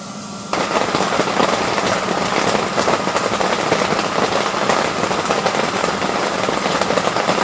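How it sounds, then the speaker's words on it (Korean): Steady rain drumming on a camping tarp at night during a summer heatwave campsite, a dense continuous patter that starts abruptly and holds at an even, close level throughout without any voices. "밤 동안 비가 와서 에어컨 텐트 안으로 넣어놓고 그냥 꺼놨거든요."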